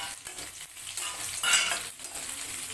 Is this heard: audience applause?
no